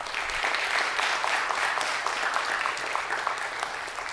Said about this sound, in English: Let's give Andrew a round of applause